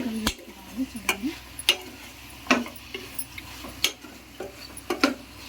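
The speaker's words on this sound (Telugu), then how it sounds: "కారం మొత్తం కలిపేసుకోవాలి." Chicken gravy in a pot is stirred as chili powder is mixed in, a series of sharp spoon scrapes and clinks at uneven intervals over a low hum, close by.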